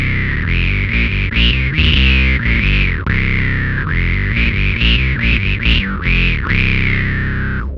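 A bass guitar runs through a Tech 21 SansAmp Bass Fly Rig with synth-style octave, filter and fuzz plus the character control turned up, producing a dense, distorted, growling riff with swelling filter sweeps, loud and steady with no voices.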